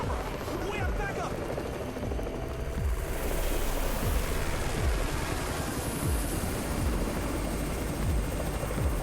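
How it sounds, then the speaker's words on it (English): A helicopter arrives in the video game Undawn, a loud, constant rotor roar with repeated low thumping sweeps, layered with wind-like noise and rising in intensity after a few seconds. "It's the Raven's chopper! We have backup!"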